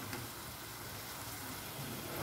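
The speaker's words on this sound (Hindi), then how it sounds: "अदरक लहसुन भी अच्छी तरीके से भून चुके हैं।" Ginger garlic paste frying in a pan for aloo keema patties, a steady close sizzle with a soft crackling hiss that runs evenly throughout, no voices.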